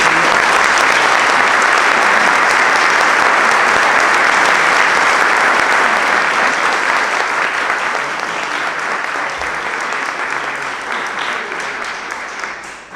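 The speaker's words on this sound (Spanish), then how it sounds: "Te vamos a dar un fuerte aplauso ahora mismo." Sustained loud applause from an audience at a book talk, a thick continuous roar of clapping hands that holds for several seconds and only begins to thin near the end.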